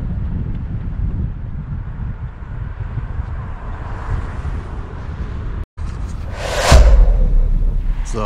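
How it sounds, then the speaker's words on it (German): Strong wind buffets the microphone outdoors at Holzminden along the Weser cycle route, a steady broadband roar that briefly cuts out and then surges louder toward the end. "Hier weht aber ein steifes Lüftchen, mein lieber Mann."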